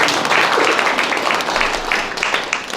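Forum audience clapping to welcome a guest, a loud, close wash of applause that holds steady and then thins slightly near the end.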